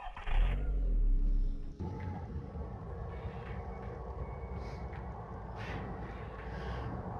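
A car drives along in the ghost-hunting management game Ghost Control Inc., a steady engine rumble holding for several seconds after a louder opening burst, with no talking.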